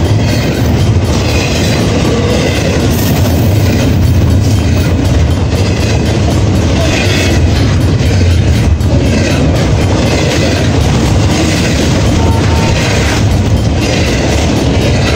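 A long CSX freight train rolls steadily past on nearby tracks, a loud continuous rumble with rhythmic clickety-clack from the wheels and faint squeals throughout, with no talking.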